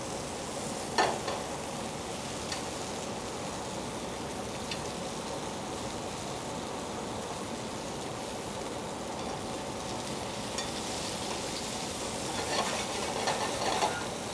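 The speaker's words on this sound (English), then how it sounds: "I like to go really high heat with plenty of oil in the pan" Food frying in plenty of oil in a pan over really high heat, a steady loud sizzle and crackle throughout with occasional stirring clicks.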